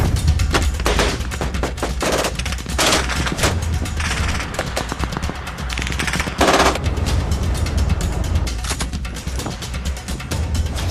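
Sustained automatic gunfire and rapid bursts of shots from fighting between NRF forces and the Taliban in Panjshir, Afghanistan, loud and dense throughout with overlapping volleys and no speech.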